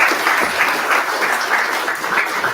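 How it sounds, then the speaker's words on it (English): Applause from an audience of mechanical engineering students closing a guest lecture: a dense, steady wash of many hands clapping at once, loud and close, sustained evenly throughout without a voice over it. "thanks for the claps from all the mechanical guys"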